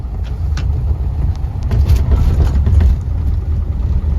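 A Rolls-Royce Silver Cloud on a test drive after a steering box reinstall, its engine a steady low drone with road rumble and light bumps, sitting close and fairly loud without speech.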